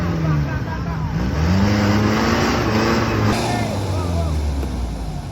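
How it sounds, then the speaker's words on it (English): A car drives along an extreme, rough road full of potholes in the wild. The engine revs and surges up and down, loud and close, with continuous road rumble throughout. "Our car had to swerve on a pothole in the road."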